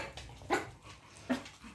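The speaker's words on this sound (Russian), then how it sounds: "Живанши, нельзя гавкать." A young dog, apparently a bull terrier among chihuahua puppies, gives two short, soft barks or yips close by, the first just after half a second and the second near the end, with faint whimpering between.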